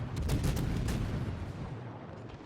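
Warship guns in World of Warships, a naval battle game, fire shells in a sustained rumbling salvo with a loud low boom that tapers off over a couple of seconds, alone with no voices.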